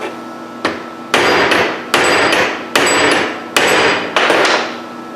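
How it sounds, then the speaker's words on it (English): Hammer strikes a rivet wire to swell it in its hole during a surface grinder repair: six sharp, loud metallic blows at a steady rhythm, each ringing briefly before the next, close up with no talking. "whop with the hammer"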